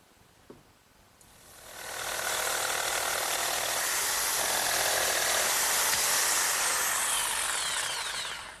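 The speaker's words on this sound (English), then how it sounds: "Now my jigsaw, set up with a nice fresh blade, does a real good job cutting out that notch." Jigsaw with a fresh blade cutting a notch in a wooden leg about an inch thick: a quiet moment and a click, then a loud, steady buzzing rasp as the cut begins and continues without voices.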